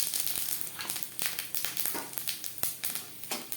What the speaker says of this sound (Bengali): মাছ ভেজে নেওয়া তেলে দিয়ে দেব তেজপাতা,